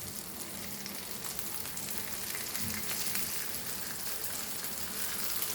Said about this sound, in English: So fry it on low flame and then turn it.